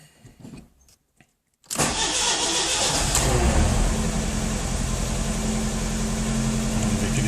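A cold Fiat Palio Ed engine is started with no throttle: faint clicks, a brief crank, then it catches abruptly and settles into a loud, steady idle close by, with no talking.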